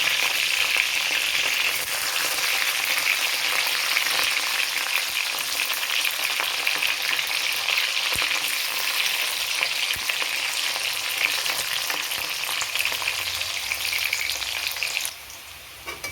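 Garlic and asafoetida frying in hot oil for homemade fish pickle, a close, steady sizzle that continues evenly throughout and drops slightly near the end.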